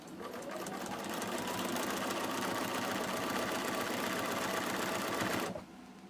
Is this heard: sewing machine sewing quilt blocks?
yes